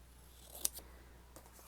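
Scissors snip through a printed photo for a creative daily journal, one sharp close cut followed by a few softer snips over quiet room hiss.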